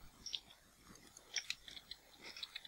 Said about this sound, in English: sorry if anyone can hear my keyboard, like, just clicking away